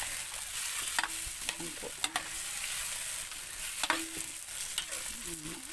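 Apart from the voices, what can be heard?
tomatoes being stir-fried in a pan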